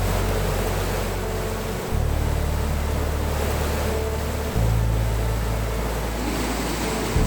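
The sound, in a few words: whitewater river rapids in Arctic Sweden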